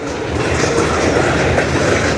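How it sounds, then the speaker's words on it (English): Freight train hopper cars roll past at Sarnia station with a loud, steady rumble and rhythmic wheel clatter on the rails, close by and continuous. "All these hoppers are going by."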